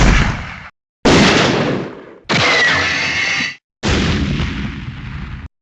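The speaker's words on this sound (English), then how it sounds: "the shot firing sounded much more realistic and unique for each of the 20" Four heavy, booming gunshot blasts from a first-person shooter video game, each one loud and close and then cut off sharply into silence, with no voices.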